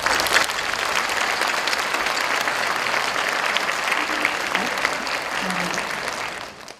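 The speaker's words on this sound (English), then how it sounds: "Please welcome each of them with a warm round of applause." Sustained applause from an audience at a formal ceremony in Jeju as distinguished guests are introduced, a dense, even wash of clapping lasting several seconds before fading out.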